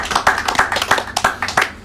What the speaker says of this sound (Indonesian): Tepuk tangan untuk narasumber kita.